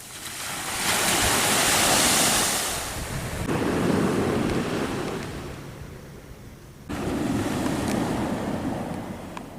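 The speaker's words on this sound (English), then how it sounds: "This is the ocean." Ocean surf breaking on the beach at Deception Pass on Whidbey Island, with Puget Sound nearby: broad roaring wash that swells and fades in three surges, loud and close, with wind buffeting the microphone throughout.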